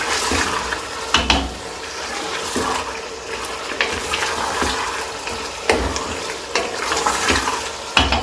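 Beef or mutton liver masala (kaleji) fries in a pan, giving a steady sizzle broken by repeated scraping stirs and spoon knocks. The sound is close and continuous, with no speech.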